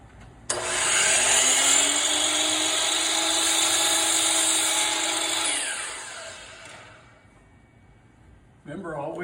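Power saw cutting wood for an Adirondack chair, a loud sustained whining buzz for about five seconds that slowly winds down, followed by a short clatter.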